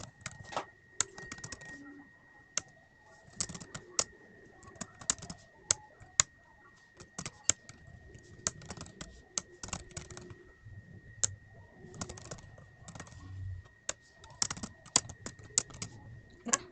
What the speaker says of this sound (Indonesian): Ketikkan semua datanya itu terisi